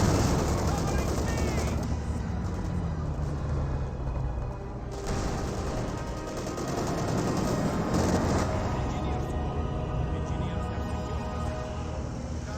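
Anti-tank gunfire in Company of Heroes 2, loud bursts of shooting and booms over dense battle noise, with commentary voices talking underneath.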